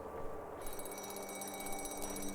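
A payphone rings in a horror video game, a steady electronic trill that starts about half a second in and repeats rapidly over a low ambient hum.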